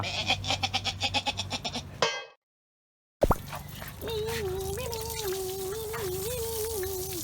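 A goat bleats in a wavering, drawn-out cry partway through, outdoors on a trip near Ayutthaya, following rhythmic thuds and a brief cut to silence, with background ambience.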